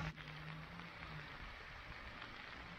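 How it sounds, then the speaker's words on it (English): Steady rain hisses on surfaces in a soft, continuous wash, faint and unbroken, with no voices, over a flooded road in Plymouth. "Stupid rain."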